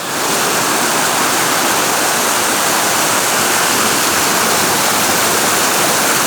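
Waterfall roars as the walk passes through it, a loud, dense, steady rush of falling water filling the whole clip with no voices.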